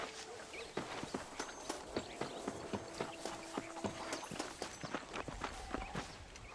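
Horse hooves clopping in a steady riding rhythm inside the Western video game Red Dead Redemption, a string of sharp, fairly close hoofbeats over a soft ambient bed with a faint tonal hum in the background.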